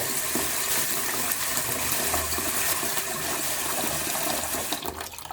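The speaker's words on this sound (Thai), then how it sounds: "ขั้นตอนแรกก็ต้องมาล้างถั่วเขียวก่อนนะครับ" Mung beans washed in water, a steady loud rush and splash of water with faint grainy rattling of beans throughout, easing slightly at the end, with no voice.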